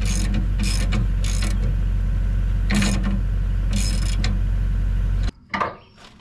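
Impact wrench tightening bolts on a trailer's new welded spring hangers: repeated loud bursts of rapid hammering over a steady mechanical drone, five or so short rattling runs before it cuts off, followed by a brief clank.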